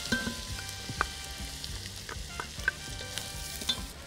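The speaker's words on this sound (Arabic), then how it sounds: "نقلي البصل مع الزبدة" Onions fry in toasted butter for lentil soup, a soft continuous sizzle with light spattering pops and occasional stirring clinks of a utensil against the pot, close and steady.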